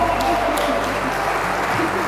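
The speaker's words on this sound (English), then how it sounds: "How about a big round of applause," Wedding guests applaud the newly married couple right after the kiss, a steady, fairly distant wash of clapping across a room that holds evenly for about two seconds.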